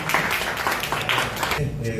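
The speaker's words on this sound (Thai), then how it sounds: "ขอเชิญกปรบมือให้กับทั้งสองท่านด้วยนะครับ" Scattered audience clapping at a football press conference, a patchy burst of applause running under someone speaking over a microphone.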